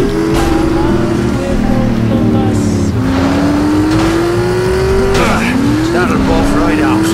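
A car driven in The Saboteur video game, its engine droning and climbing through gear changes with rising and resetting pitch, plus brief tire noise, loud and close throughout.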